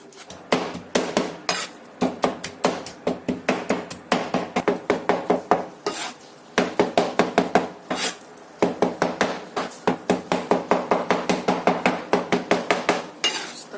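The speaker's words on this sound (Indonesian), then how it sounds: "Ini setelah kita iris seperti ini, kemudian kita cincang halus." A knife finely mincing chicken meat on a board, with rapid, rhythmic close chops in long fast bursts and brief pauses between runs.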